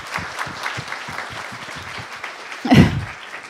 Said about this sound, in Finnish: annetaan ensin aplodit vielä Sarille.